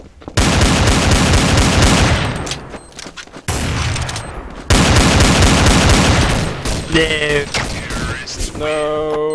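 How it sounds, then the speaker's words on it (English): Machine gun fire from Counter-Strike: Source rattles in long loud bursts, stopping abruptly twice before resuming, followed by sharp tonal game effects near the end. "Now I have a machine gun"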